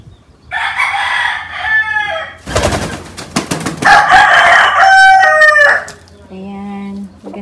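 A rooster crows loudly and close by, giving two long drawn-out calls broken by a burst of harsh flapping and clatter, then a shorter final call.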